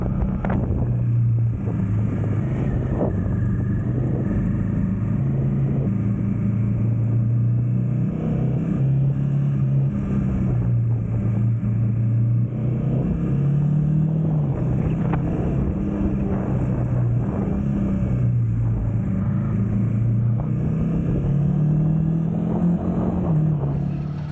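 A Royal Enfield Himalayan 450 motorcycle rides a narrow tarmac rally-style stage in rural Scotland, its engine droning steadily and loudly throughout with rising and falling revs, wind rush over the microphone, and no talk.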